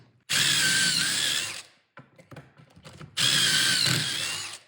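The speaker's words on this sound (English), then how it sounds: "we're just going to drill pocket holes in all of these before we start assembling" Power drill boring pocket holes into the sides of kitchen base cabinet carcasses, two loud sustained whining runs separated by a short pause filled with light clatter and handling noise.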